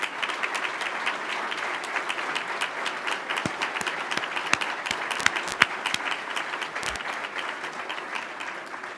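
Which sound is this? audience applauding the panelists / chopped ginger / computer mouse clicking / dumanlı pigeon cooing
audience applauding the panelists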